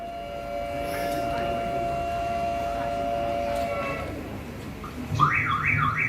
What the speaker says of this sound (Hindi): इमरजेंसी सायरन बजते ही हमारे विंग कमांडर्स अपने ग्रुप कैप्टन के साथ तैयार।